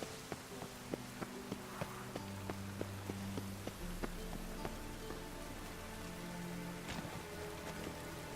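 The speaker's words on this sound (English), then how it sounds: "Looks like rain." Rain falls in The Witcher 3, a faint, steady patter with scattered sharp drop ticks over a low, sustained tonal background.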